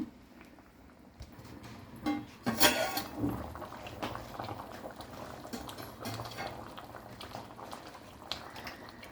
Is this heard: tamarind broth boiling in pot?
yes